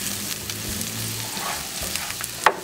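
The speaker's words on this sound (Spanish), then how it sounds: "Vamos a sofreír bien estos ingredientes para después ponerle el tomate" Onion, garlic and green chile sofrito frying and being stirred in a pan for shrimp tacos, a steady close sizzle with scraping stir sounds and a sharper crackle near the end.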